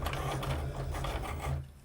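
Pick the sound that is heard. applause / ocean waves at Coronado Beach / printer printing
printer printing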